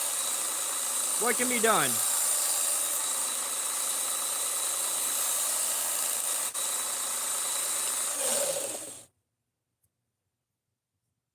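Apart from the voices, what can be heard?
knife being sharpened on a belt grinder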